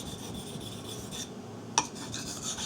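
A knife blade is ground on a 400 grit Chosera sharpening stone, giving a steady, close, soft raspy scraping in repeated strokes, with one brief sharp click partway through.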